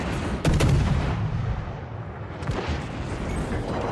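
Heavy gunfire in a video game sounds as a loud, booming burst near the start, followed by further rumbling shots and blasts echoing over the next few seconds.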